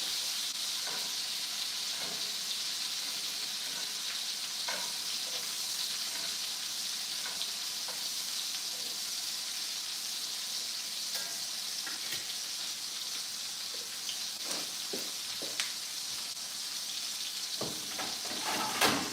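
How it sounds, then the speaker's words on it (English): Onions sauté in a frying pan with a steady, close hiss and sizzle, broken by occasional scrapes and light clicks from stirring, with no voices heard. "Have the sauteed onions."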